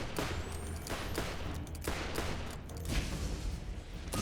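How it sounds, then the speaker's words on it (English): Rapid, fairly even bursts of gunfire from the Equalizer gun in the video game Borderlands repeat under a dense, noisy background, sounding somewhat distant and muffled. "let's work on getting some ammo back here with our lovely equalizer"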